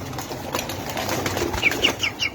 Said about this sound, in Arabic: هاي الطيور